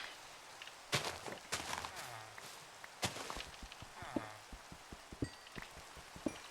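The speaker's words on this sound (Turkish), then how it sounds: "Güzel oldu yağmurun yağması" Quiet in-game rain patter in Minecraft Skyblock, with scattered sharp drops and taps, faint and intermittent over a soft background.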